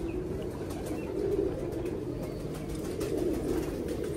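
A pet pigeon gives soft, low cooing near at hand, with a couple of swelling coos over a steady background hum and no talking.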